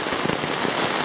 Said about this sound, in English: looks like we're getting some rain bands from the hurricane that's in Fort Myers